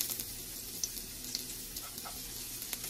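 Garlic sizzles steadily in hot cooking oil in a pan while pork adobo is being made, giving a continuous close crackle with small sharp pops scattered throughout.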